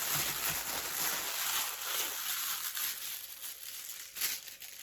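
Plastic crinkles and rustles up close as it is handled and squeezed, with irregular crackling bursts throughout.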